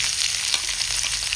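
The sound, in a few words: onions frying in pan for snail gravy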